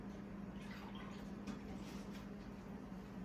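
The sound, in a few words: water being added to stuffed peppers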